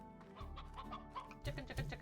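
Chickens in the Slime Rancher video game cluck in a quick repeated series of short calls, steady and close, with a louder burst near the end and no talking.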